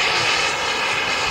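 A Sukhoi 27 aircraft engine drones steadily with a bright, even whine across the brief moment, loud and continuous with no talking.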